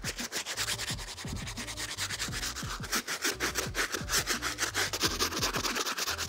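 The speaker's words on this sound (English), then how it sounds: "Now let's hit this outsole using our stiff bristle brush." A stiff bristle brush scrubs the outsole of a Jordan 5 shoe, rapid rhythmic back-and-forth scratching strokes, loud and close, continuous with no talk.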